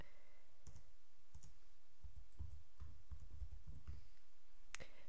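A computer mouse clicks several times, quiet and close, in sparse irregular single clicks over a low background hiss, with no speech.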